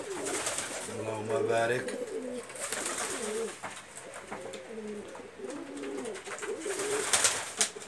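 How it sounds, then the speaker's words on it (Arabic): Pigeons in a loft in the evening coo in soft, rolling, repeated phrases at close range, over a steady background hum, while someone speaks briefly near the end. "نشوفوا فيها الحمام."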